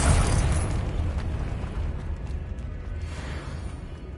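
A Confringo spell blast in Hogwarts Legacy, set in an old abandoned cave, lands as a loud booming explosion that rolls into a long, fading rumble with no voices.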